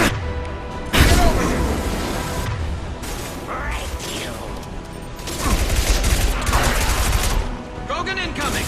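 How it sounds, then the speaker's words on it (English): Dense Mass Effect 2 combat gunfire crackles nearly nonstop in bursts, with sharp impact cracks, mechanical clatter and game voices over a loud battle mix. "Firing a high-impact shot!"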